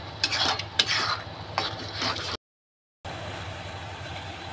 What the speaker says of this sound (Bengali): এতে ভালো করে নাড়িয়ে নাড়িয়ে নাড়িয়ে এটা শুকনো হয়ে যাবে